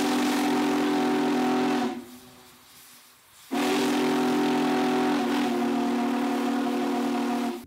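A loud Big Boy steam locomotive whistle blows a long steady tone, cuts off for about a second and a half of hissing quiet, then sounds again and holds.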